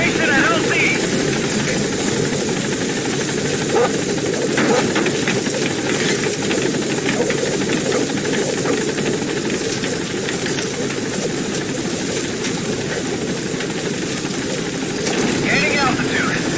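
Pequod support helicopter from Metal Gear Solid 5 hovering at a landing zone, a steady loud rotor and engine roar filling the whole stretch, with game radio voices speaking over it.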